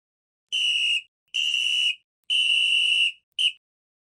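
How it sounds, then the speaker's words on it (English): A railway guard blows four sharp, shrill whistle blasts, three long and one short, loud and near with silence between them. "The guard blew his whistle till he had no more breath"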